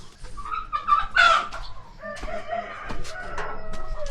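Chickens clucking and a rooster crowing at a rural home with ducks, a loud close crow near the start followed by scattered clucks and bird calls with no talk.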